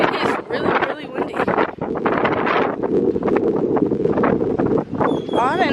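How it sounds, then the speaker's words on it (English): Strong coastal wind in Mexico buffets the microphone in heavy, continuous gusts, with people talking over the roar and a brief whistle-like sound near the end. "It is really, really windy."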